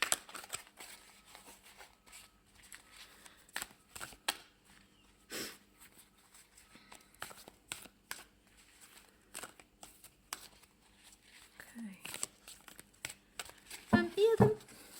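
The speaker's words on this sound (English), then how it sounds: "Probably a bit difficult to shuffle them for any great length of time." A new oracle card deck is shuffled by hand, giving soft, irregular riffling and papery flicks in short bursts, close and fairly quiet, with a brief rustle and handling noise near the end.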